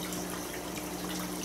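Cycled aquarium water is poured into a vinegar eel culture container, giving a continuous, even splashing trickle that lasts the whole moment at moderate volume.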